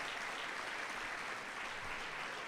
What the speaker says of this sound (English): On your feet, please, to get a round of applause.